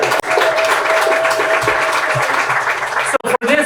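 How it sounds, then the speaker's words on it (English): An audience at a school Student of the Month ceremony breaks into a loud, steady round of applause that cuts off abruptly near the end, with a voice briefly audible around it. "So give them a big round of applause for it."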